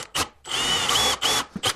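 A drill drives a long 12 mm bit into an entrance door to fit an electric doorbell, its whine broken into short bursts and one long sustained run, close and loud with no talk.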